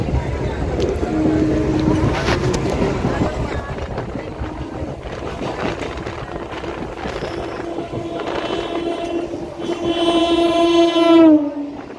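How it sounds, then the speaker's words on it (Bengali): A loud, steady rumble heard from aboard a Sealdah–Bongaon local train, ending with a long horn blast that rises and then cuts off as the train pulls into a station. "এখন ট্রেন ঢুকছে বিরাট স্টেশনে"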